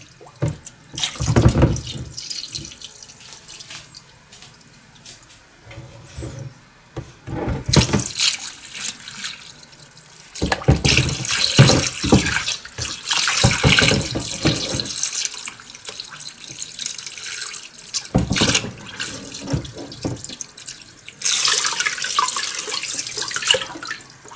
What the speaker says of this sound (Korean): 물에 완전 넣어보도록 하겠습니다